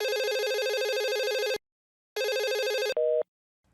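A telephone rings with an electronic, trilling tone in two long bursts separated by a short pause, then a brief higher beep, clear and alone.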